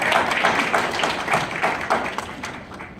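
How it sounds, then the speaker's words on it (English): Guests at a 2017 Kidney Foundation awards event applaud, producing a brisk, fairly close patter of overlapping hand claps that continues evenly before tapering slightly. "I'd like to give you all a round of applause before I mention the names."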